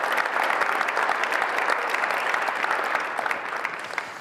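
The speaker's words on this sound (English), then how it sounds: "Give Tyrell a round of applause" Audience at a high school signing day event giving steady, dense applause for an athlete, continuous clapping at even loudness throughout without pause.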